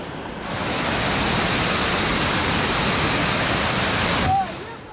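A loud, steady rush of water falling at Pelangi Waterfall, Sungai Lembing, Malaysia, roars continuously, dense and close, cutting off abruptly near the end.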